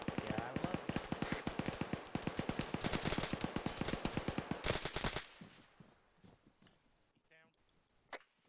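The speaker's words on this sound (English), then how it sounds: "He's shooting back." Rapid exchanges of gunfire during a tactical training exercise, with dense bursts of close, loud shots rattling for about five seconds before fading to scattered sporadic cracks.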